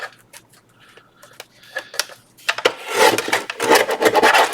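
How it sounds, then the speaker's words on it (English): A trimmer cutting through fabric with wet glue, giving scratchy rasping strokes that start faint and sparse, then grow louder and denser near the end, close up with no talk. "Now I know my trimmer will cut fabric too"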